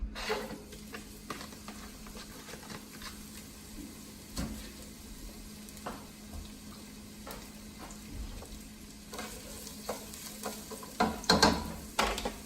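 Sliced onions fry in a pan with a steady soft sizzle, broken by intermittent scraping and clinking as a utensil stirs them, growing busier toward the end.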